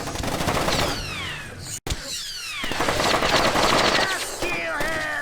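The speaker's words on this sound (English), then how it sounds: "We've got incoming shots!" Rapid automatic gunfire rattles through a Splinter Cell Chaos Theory game scene in long bursts with a brief cutout, mixed with whistling, squealing effects and a shouted voice.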